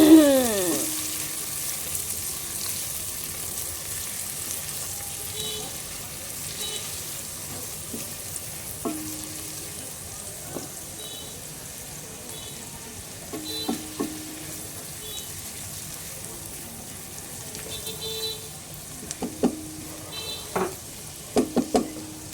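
Food sizzling and frying in a pan in a home kitchen, a steady crackle underneath with scattered sharp clinks and scrapes of a utensil stirring, growing busier toward the end, no talk.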